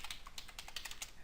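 Rapid typing on a computer keyboard while entering a package search, with a quick burst of crisp, close key clicks and no talk.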